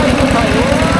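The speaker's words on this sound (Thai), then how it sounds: "ยังลุยได้เนาะรถไถเนาะ" A tractor engine chugs as it drives through floodwater on a flooded village access road. The low, steady pulsing motor runs close by under a voice.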